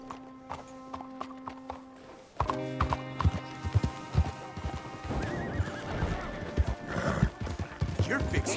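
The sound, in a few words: horse riding in video game Red Dead Redemption 2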